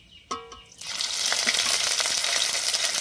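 Whole dry red chillies, nigella seeds and ginger paste hit hot oil with a sharp splash, then burst into a loud, steady, close frying hiss that holds through to the end.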